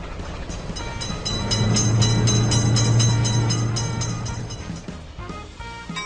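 In the Railroad Crossing mobile game, a passing train builds into a loud, near rumble for a few seconds before fading, layered over steady ticking and tonal in-game sounds.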